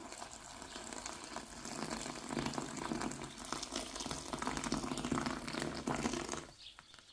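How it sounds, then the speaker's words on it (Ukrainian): Freshly boiled water pours steadily over dried porcini mushrooms in a container with a bubbling, hissing gush, fairly close and quiet, then stops near the end. "І заливаю крутим кип'ятком."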